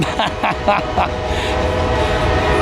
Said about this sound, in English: if he shuts that damn horn up